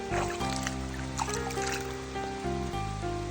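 A hand swishes and splashes in shallow stream water, making a soft continuous trickling and gurgling close by, with faint tonal sounds running underneath.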